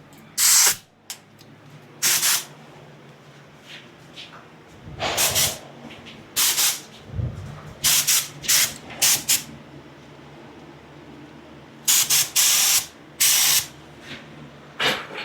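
A paint spray gun sprays urethane primer onto Datsun 280Z panels in short, loud hissing bursts of one to two seconds, separated by quiet pauses.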